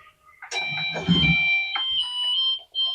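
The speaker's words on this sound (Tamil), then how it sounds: "அதுவே துவச்சு அலசி ட்ரை பண்ணி லாஸ்ட் சவுண்ட் வரும்" End-of-cycle beep melody from a Samsung 10kg washing machine: a short sequence of clear electronic tones, close and loud, with a brief final note after a pause.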